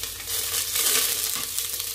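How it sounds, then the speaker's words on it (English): Garlic, onion and other ingredients sauté in a hot pan for Tom Yum soup, giving a steady, close sizzle with a faint stirring texture, without any talking. "Now we start sauteing all our ingredients."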